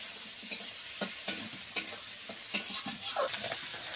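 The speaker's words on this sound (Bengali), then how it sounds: "এবার একটু হালকা হালকা টমেটোটা ভেজে নিয়ে তারপরে আলুটা দিয়ে দেবো।" Tomatoes lightly frying in a pan for a potato and snakehead fish curry, a soft sizzle broken by a handful of quiet stirring scrapes and taps, fairly faint and close.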